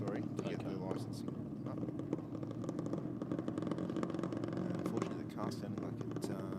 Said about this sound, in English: Sounding like it's breaking down a little bit in the ignition there as it got to the 60 foot.